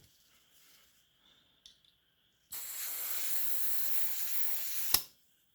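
Gas escapes from an airsoft magazine in a loud, steady hiss that starts abruptly, holds for about two and a half seconds, then cuts off sharply, with faint handling noises before it.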